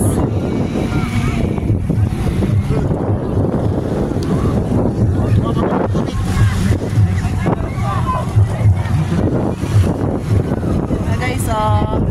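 Strong sea wind buffets the microphone at the seaside, a constant roaring rumble with surf in the background and voices talking faintly underneath.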